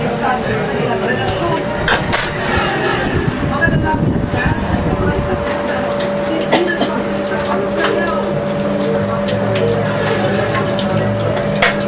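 Water runs steadily from a tap with splashing in a sink, continuous and close, while people talk over it.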